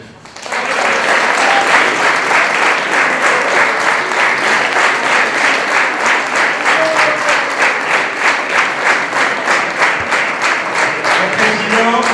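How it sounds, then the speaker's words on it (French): A hall audience at a roller sports European cup ceremony in Grenoble bursts into loud applause, with rhythmic unison clapping pulsing steadily for about eleven seconds, close and full. "Gilbert Noturno, vous pouvez l'applaudir très fort."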